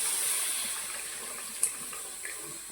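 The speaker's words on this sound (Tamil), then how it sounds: "தேவையான அளவு தண்ணி ஊற்றிக்கோங்க." Water and tamarind extract poured into a pan for a home-style Tamil fish curry, a steady faint pouring wash heard alone with a small splash near the end.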